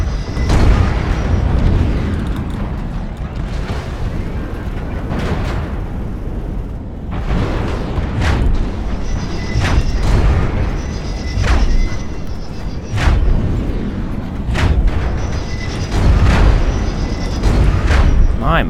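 Light Gauss rifle fire in MechWarrior Online booms repeatedly amid heavy, rumbling combat noise, loud sharp impacts recurring every second or two with some speech mixed in.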